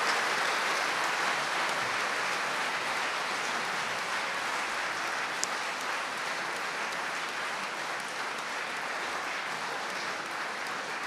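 Audience applause after a speech at a speech competition, a dense, steady wash of clapping that holds at an even level for about eleven seconds without a voice over it.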